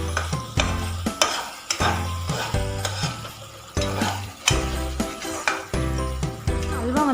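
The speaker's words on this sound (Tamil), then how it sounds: "ஆனால் நம்ம அடி பிடிக்காமல் கிண்டி விட்டுட்டே இருக்கணும்" Bread halwa is stirred in a pan as it cooks, with repeated scraping strokes of a spoon against the metal in a steady rhythm over a soft sizzle, close and clear.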